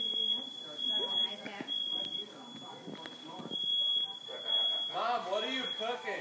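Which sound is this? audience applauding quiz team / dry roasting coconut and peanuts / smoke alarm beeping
smoke alarm beeping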